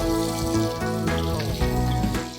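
Tomatoes sizzle softly in a hot pan, a steady frying hiss beneath background music.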